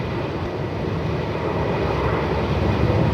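An outbound airliner departing Melbourne Airport for Brisbane on a very windy day roars steadily and loudly, a broadband engine rumble that swells slightly over about three seconds.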